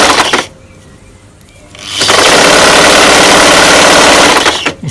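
A sewing machine runs a half-inch seam on the orange bottom of a dress made from T-shirts. After a quieter start, the motor whirs loudly and continuously from about two seconds until just before the end.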